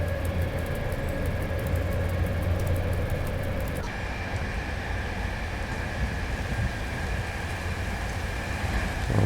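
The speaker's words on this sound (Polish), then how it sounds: "słychać deszcz z zewnątrz" Rain patters steadily outside a train cab in the SimRail video game, a continuous hiss beneath the hum and low rumble of the moving train, with a brief change in the cab's tone partway through.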